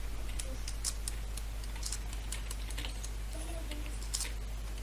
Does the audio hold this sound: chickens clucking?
no